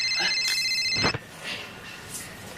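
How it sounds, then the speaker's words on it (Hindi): A mobile phone rings with a bright electronic ringtone for about a second, then cuts off, leaving quiet room noise and faint movement. "ये गनगना रहा है, देखो भाई। केका फोन आओ भाई?"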